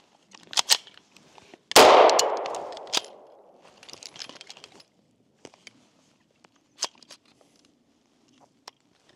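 A single loud gunshot from a 9mm AR rifle with a Bear Creek Arsenal bufferless upper suffering ejector trouble, followed by a decaying ring and scattered metallic clicks and handling noises.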